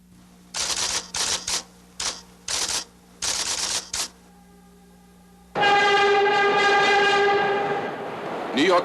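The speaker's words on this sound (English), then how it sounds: "New York City subway system." A New York City subway train: a run of short, sharp bursts, then a loud sustained screech with high ringing tones as the train brakes or rounds a curve nearby.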